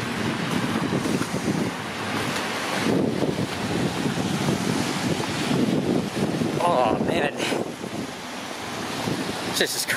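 Strong gusting wind buffets the microphone on a snowy, cold Toronto street, a continuous loud roar rising and falling with brief clatters.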